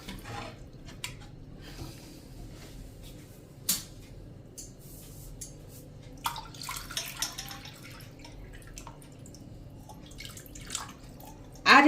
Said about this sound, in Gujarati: આ રીતે તમારે પાણી ભરીને અને ઉપરથી ડૂબડૂબું રહે ને એટલું રાખવાનું છે